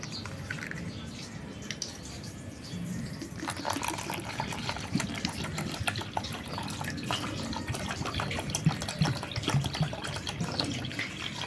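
Cold water is poured onto mango paste in a large bowl while making aam panna, giving a steady, close splashing and trickling of liquid that continues throughout, with no talk.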